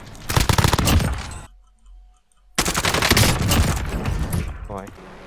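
Krig 6 rifle fire in Call of Duty Warzone comes as loud, rapid automatic bursts up close, broken by a brief quiet gap and then resuming, with a voice talking over the shooting.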